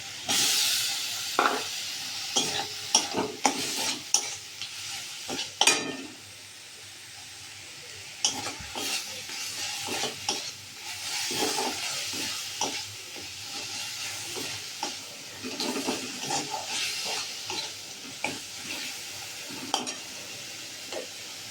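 Spice masala with chopped tomato being stir-fried in a pan, a spoon scraping and stirring in repeated irregular strokes over a steady sizzle and hiss, close and fairly loud throughout.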